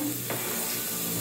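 Onion frying in oil in a pan for garlic and oil pasta, a steady close sizzle with a brief stir, no voices.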